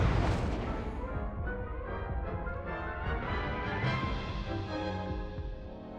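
Confringo and Incendio spell blasts go off in the wizarding game Hogwarts Legacy, opening with a loud burst and then fading into a sustained, crackling, rumbling roar of magical fire and impacts.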